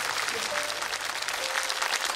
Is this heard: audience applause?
yes